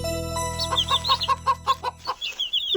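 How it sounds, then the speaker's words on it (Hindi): An animated hen clucks with her chicks in a cartoon farm scene, a run of about a dozen short, close clucks in a quick, uneven rhythm over a low hum that fades out partway. "मुर्गी अम्मा अपने बच्चों के साथ।"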